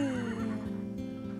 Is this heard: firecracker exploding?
no